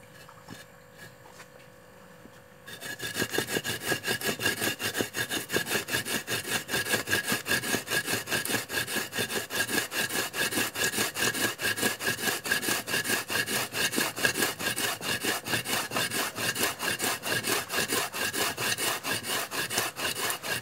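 Bricks rubbed together with water added, a steady rhythmic rasping scrape that starts after a quiet lead-in and continues loud and close without pause.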